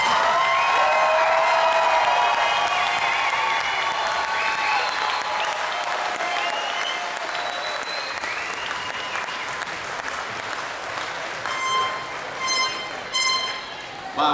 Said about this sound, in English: So let's give our eighth graders a huge round of applause.